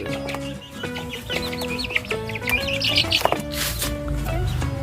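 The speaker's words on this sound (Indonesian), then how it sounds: "Kalau yang ini ayam kampung Birma" Burmese village chickens kept as a backyard flock cluck and chatter in close, overlapping bursts, with sharper calls rising near the end and no talking.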